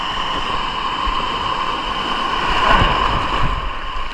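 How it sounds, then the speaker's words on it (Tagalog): Large ocean waves wash and surge steadily near a rocky shore during ultralight fishing, a continuous rushing roar that swells toward the end, with no talk. "Grabe na laking alon."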